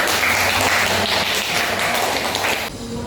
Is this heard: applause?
yes